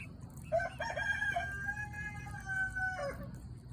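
Backyard chickens cluck, and a rooster lets out a full crow that rises, holds and drops off, fairly close against a quiet outdoor background.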